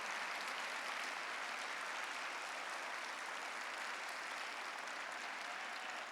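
A church congregation at a Sunday service applauding, a steady wash of many hands clapping at a fairly distant, even level without pause.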